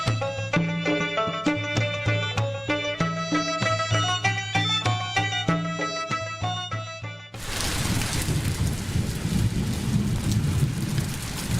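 Steady heavy rain with a low thunder rumble fills the second half, loud and continuous, after music ends; no voices.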